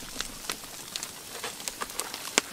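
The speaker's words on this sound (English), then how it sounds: "Looks like the rain's just starting back up." Rain patters outdoors at a wilderness fishing camp, light scattered drops ticking on surfaces nearby, growing slightly denser toward the end.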